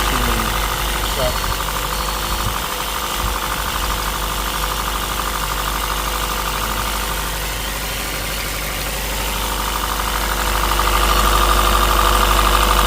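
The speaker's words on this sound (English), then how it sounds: "I'm actually hearing the misfire" A 2014 Honda Grace Hybrid's engine idles with a misfire, a steady mid-pitched rumble with rough, knocking irregularity running throughout, swelling slightly louder toward the end.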